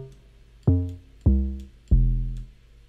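Three deep 808 bass notes from a sample struck on Logic Pro X's on-screen musical keyboard, each a sharp punchy attack that booms and decays with a slight pitch glide, evenly spaced and heard alone.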